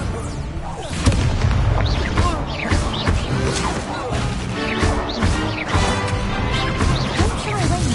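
Incendio fire spell cast during Harry Potter video game combat, producing a dense, loud wash of booming bursts, crashes and whooshing magical effects over continuous battle noise, with voices calling out in the background.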